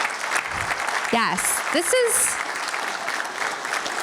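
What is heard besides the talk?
audience applause for candidates at forum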